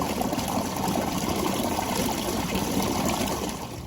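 Water draining from an RV black water tank during a dump, a steady moderate gushing rush through the hose that holds even throughout and eases slightly at the end.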